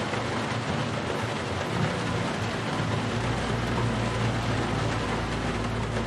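Steady broadband rain hiss in American Truck Simulator, driving a Ruda 389 Glider truck, loud and continuous with a low rumble entering partway through, no talking.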